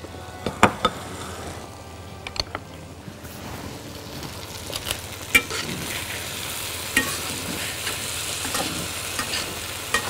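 Cheese babka filling being stirred in a pan, giving a steady scraping and soft sizzling texture with a few sharper clicks of a utensil against the pan, close and moderately loud.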